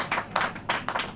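A church congregation claps in a quick run of rhythmic bursts, a few loud, even claps in steady succession heard up close.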